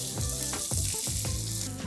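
Bacon frying in hot oil in a pan for a Gordon Ramsay rigatoni recipe, with a close, loud crackling sizzle and several pops and stirring scrapes in quick succession, no voices.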